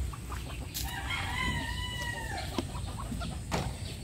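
Chickens cluck steadily in a backyard flock and a rooster crows once clearly partway through, near and moderately loud over low farmyard noise.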